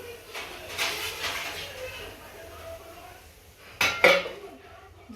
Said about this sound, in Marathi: झाकण ठेवली